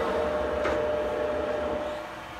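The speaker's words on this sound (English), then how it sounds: "Now I'm going to put the muffler on the system." A radon mitigation system fan fitted with a muffler gives a steady, muted mechanical hum with a soft airy hiss, holding constant and easing slightly near the end.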